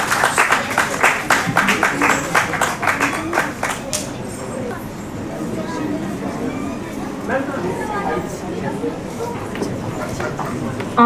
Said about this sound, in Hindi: एक जोरदार तालियां बजा दीजिए